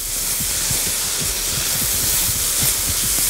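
Turmeric hitting hot oil, cooked beside rice, gives a steady loud sizzle and hiss with small crackling pops throughout.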